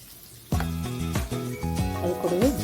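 A sudden loud sizzle as cumin seeds hit hot oil with bay leaves, crackling steadily for a couple of seconds with some stirring.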